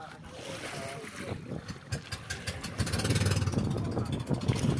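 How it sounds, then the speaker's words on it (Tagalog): A fast boat runs through flood water at high tide in a flooded coastal community, its motor whirring with bursts of splashing and rushing water that grow louder toward the end, and people talk faintly nearby. "Ang bilis din ng bangka nila tatay"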